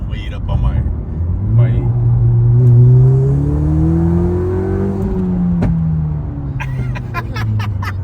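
A Ford Fiesta ST with a downpipe and E30 tune pulls hard from inside the cabin, engine note rising steadily through the revs before easing off. A person talks over it at the start and end.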